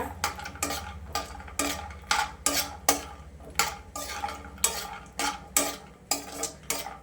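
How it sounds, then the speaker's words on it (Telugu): Vermicelli fries in a pan over a medium flame, with a spoon stirring in a regular rhythm of sharp scrapes and clinks against the pan over a low sizzling hum. "సో చక్కగా ఫ్రై అయిపోతున్నాయి అన్నమాట."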